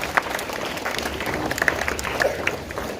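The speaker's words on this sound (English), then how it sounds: "Please give a big round of applause for Miss Ayushi Seni." Audience applause at a morning school assembly during English Week, a steady wash of many hands clapping from a sizable crowd of students, with a few sharper claps standing out.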